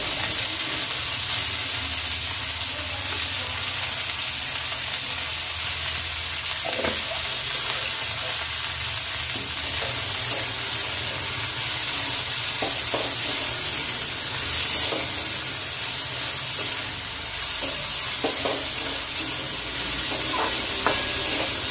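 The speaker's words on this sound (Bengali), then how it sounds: "উপকরণ আমি একটু ভাজা ভাজা করে নেব।" Dalia pulao ingredients fry and are stirred in a pan: a steady, dense sizzle runs throughout, broken by occasional soft scrapes from stirring.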